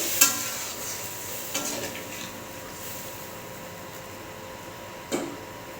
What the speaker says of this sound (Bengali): এবারে দিয়ে দেবো জল। তো একটু নেড়ে চেড়ে দেবো।